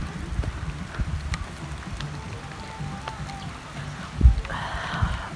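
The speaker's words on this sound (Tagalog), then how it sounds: "Ulan pa jud." Rain falls during an outdoor hillside trip near Davao City as a soft, steady patter over rumbling background noise. A couple of brief knocks come close to the recorder near the end.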